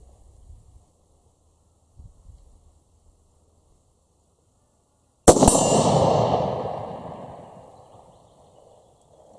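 A single Rigby Highland Stalker rifle shot cracks loudly after near silence, followed by a long rolling echo that fades over several seconds outdoors, with faint handling noises beforehand.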